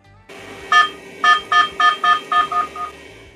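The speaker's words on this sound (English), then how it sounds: "My only annoyance was the beep sound like a dial-up modem." Creality CR-10S Pro 3D printer giving a string of about seven short, loud electronic beeps in a quick, uneven rhythm, close and clear, like a dial-up modem.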